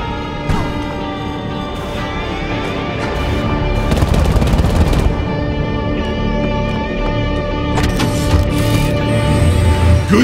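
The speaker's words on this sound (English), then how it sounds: "It'll turn your arm module into a maxi gun." Maxi gun fired from an arm module in the video game Bombshell, a loud sustained rapid burst of gunfire with dense crackling shots and mechanical whine, continuing almost without pause.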